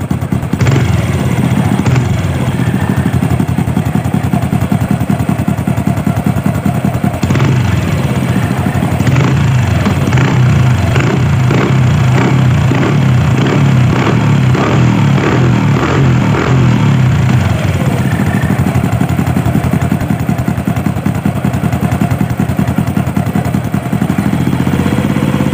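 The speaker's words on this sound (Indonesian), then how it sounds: "Cuman suara knalpot moros nembak-nembak." Honda Supra motorcycle with a leaky exhaust idling up close, a steady loud engine rumble punctuated by rapid popping backfires through the middle stretch.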